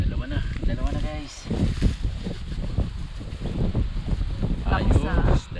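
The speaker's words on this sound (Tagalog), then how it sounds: "kahit malakas ang hangin" Strong wind at sea buffeting the microphone from a small boat out fishing, a constant rough rumble with waves, while people talk over it throughout.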